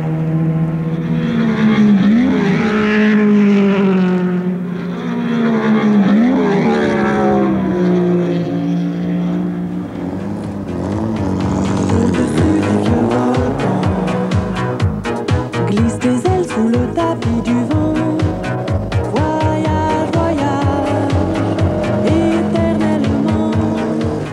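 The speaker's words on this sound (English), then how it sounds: "On the road south to the Alps, John Chatham's determined to put his Austin Healey through its paces." An Austin Healey classic car roars along a road south toward the Alps during the Pirelli Classic Marathon, engine note loud and close, rising and falling through gear changes with a rasping, pulsing exhaust.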